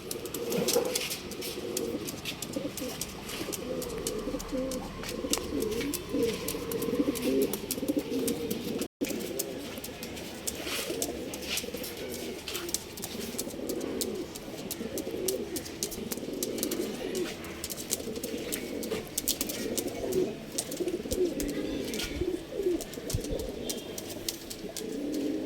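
Old line pigeons coo repeatedly in low, soft, rolling calls, several birds overlapping at moderate distance against a faint background hum, with occasional chirps and no talking.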